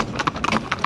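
Young, newly broken horses walk along a public highway, their hooves clip-clopping in quick, uneven beats over a brief moment, close and fairly loud.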